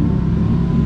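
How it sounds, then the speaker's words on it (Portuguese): A car engine idles steadily while warming up, a constant close mid-pitched hum with a faint whir, alone and unbroken through the short stretch. "O carro tá esquentando, eu tenho que conferir a água."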